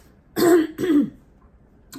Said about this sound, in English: I apologize if I keep clearing my throat.